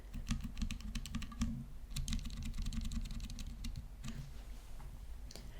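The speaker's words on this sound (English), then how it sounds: "And then the tactile ones, first copper and then brown." Someone types steadily on a Dygma Raise keyboard, first with copper and then brown tactile switches, giving close, dense bursts of keystrokes with a brief pause between the two runs.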